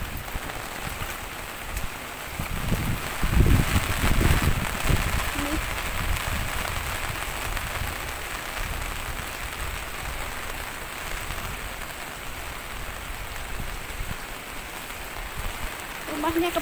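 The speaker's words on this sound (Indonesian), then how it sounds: "hujan deras banget" Heavy rain pours steadily onto surfaces in a constant hiss during flooding at a house, with a few low thumps and faint sounds from nearby.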